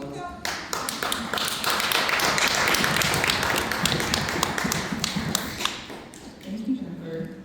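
Sustained round of applause from an audience at a research engagement day, dense overlapping claps lasting several seconds before tapering off, with faint voices near the end.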